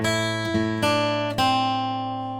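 Guitar playing the closing phrase of the second verse line of a song, a few picked notes that ring on and slowly decay, heard alone and close.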